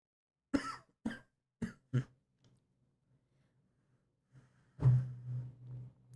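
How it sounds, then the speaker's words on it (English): A run of sharp coughs, four quick bursts, then a pause and a longer raspy cough, close up in a quiet room. "I'm in coughing fit."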